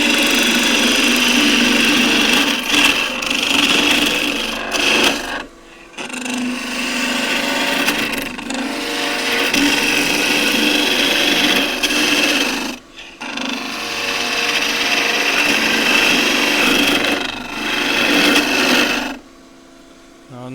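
An old Tasmanian oak table leg spins on a wood lathe while a gouge makes long cuts toward the point. The result is a steady, loud scraping whir in sustained passes, broken by brief pauses between cuts.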